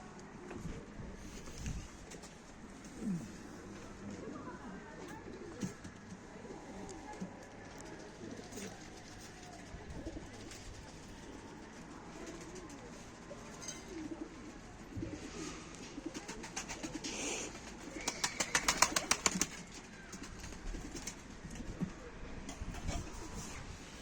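Mardin pigeons coo softly and repeatedly in a quiet setting, with occasional wing flutters and brief distant talk mixed in.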